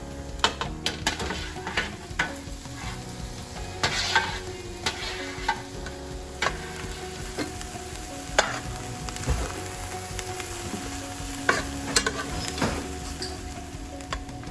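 Brussels sprouts and onions fry in a pan, a steady close sizzle broken by frequent scraping stirs and sharp utensil clicks against the pan, with no talking.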